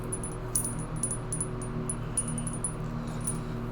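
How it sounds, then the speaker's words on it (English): Small bright metallic tinkles ring out repeatedly from a small bell being knotted onto twine in a quiet room, light and close, with soft handling noise underneath. "I can hear it tinkling."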